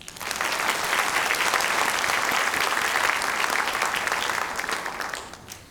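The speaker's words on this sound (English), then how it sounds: "Let's give a round of applause again for all of our student leaders." Audience at an MLK Day of Service celebration applauds student leaders, a full, sustained round of clapping that rises quickly, holds steady and tapers slightly at the end.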